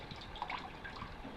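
Water filling a toilet tank as it is refilled with reused shower water, a quiet trickling and dripping flow that stays low and steady for a moment.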